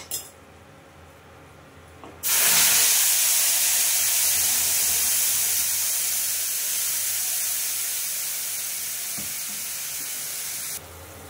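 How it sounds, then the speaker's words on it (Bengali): A paste of onion, ginger, garlic, chilli and tomato hits a hot pan and bursts into a loud, steady sizzling hiss that slowly eases over several seconds before cutting off, close up with no talking. "এই মিশ্রণটা আমি এবার ঢেলে দেবো"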